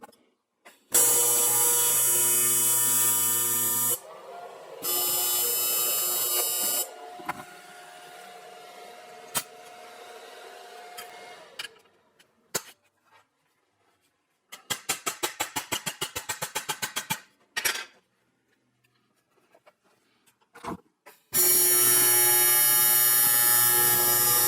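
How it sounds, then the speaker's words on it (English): Tack welding of clamped, aligned steel pattern parts: several separate bursts of harsh buzzing arc noise, each a few seconds long, broken by quiet gaps and a stretch of rapid crackling pulses. "I'm going to put some tack welds on this."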